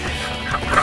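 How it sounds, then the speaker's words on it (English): Ducks at a backyard aquascape pond in the desert give a brief, close, noisy burst of fowl calls lasting under a second. "do these ducks bite?"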